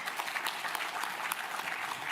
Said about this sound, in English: How about a round of applause for that video?